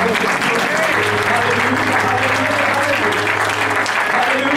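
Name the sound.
congregation clapping hands in praise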